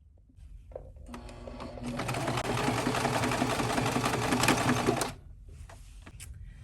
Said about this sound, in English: I will pull that to a triangle shape, and then I'll sew crosswards